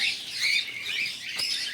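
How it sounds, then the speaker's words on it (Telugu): Pied cockatiels chirp at Tirupati's Sri Venkateswara Zoological Park. A few quick, high chirps and tweets sound close and fairly faint over a quiet background. "పైడ్ కాక్టైల్. ఇవి చాలా చిన్న సైజు ఉన్నాయి, చిలుకలు లాంటివి."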